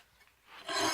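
A big flat file rasps across a steel Kabar clone knife blade during profile shaping, starting faint and then swelling into a loud, steady rasping stroke near the end.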